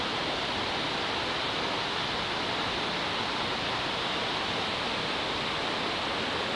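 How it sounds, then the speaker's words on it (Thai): Steady, unbroken rush of a waterfall in Khao Chamao National Park, Rayong, a constant broadband roar with no pauses or changes in level throughout. "นี่นะน้ำตกเขาจะไหลลงไปนี่นะครับ"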